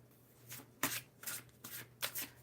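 An elemental empath oracle card deck is shuffled by hand, producing several sharp, crisp riffling bursts in an irregular rhythm, close and clear with no talking.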